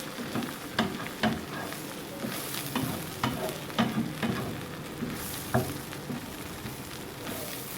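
Mutton brain fries with coriander, garlic and chili in a pan, giving a soft, fairly quiet sizzle with scattered stirring taps and scrapes throughout and no voices.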